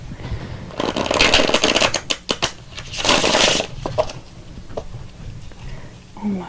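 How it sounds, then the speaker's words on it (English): Tarot cards being shuffled by hand in bursts of riffling and slapping, close and crisp, with quieter handling and small taps between the louder runs. "I don't feel like they're shuffled enough yet."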